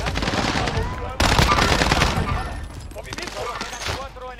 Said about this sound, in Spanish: Nos disparan de frente, es un dúo.